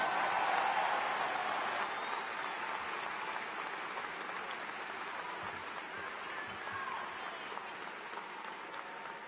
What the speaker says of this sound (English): Can we get a round of applause for our outstanding grads and Impact